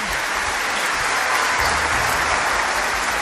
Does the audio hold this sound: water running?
no